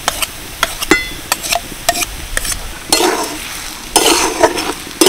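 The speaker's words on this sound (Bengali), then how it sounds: "এটা দিয়েই ভালো করে ফুলকপি আর আলুটাকে ম্যাশ করে নেব।" A steel glass mashes cauliflower and potato in a pan, with repeated sharp metallic taps and knocks at an irregular rhythm, plus longer scraping, squishing bursts, close and loud with no talking.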